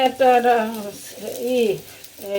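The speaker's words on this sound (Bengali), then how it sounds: "আর এখানে আমি কাঁচামরিচ একটু তেলে ভাজা দিতেছি শুটকি ভর্তা বানানোর জন্য।" Green chillies fry in oil for a mashed dried-fish dish, a hissing sizzle running beneath a voice that talks or hums through most of the moment.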